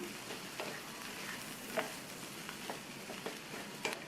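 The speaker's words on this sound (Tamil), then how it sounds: "இப்போ நல்லா ஒரு தடவை மிக்ஸ் பண்ணி விட்டுறலாம்." Radish and potato curry with curry leaves and coriander leaves sizzles quietly in a pan while it is mixed, a soft steady fry with a few light scrapes and clicks of the spoon.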